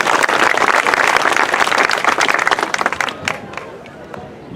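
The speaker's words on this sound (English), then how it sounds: "let's hear a round of applause for that" An outdoor crowd at a community remembrance walk honoring a Chinese fishing community breaks into loud, close applause that thins into scattered claps and fades out.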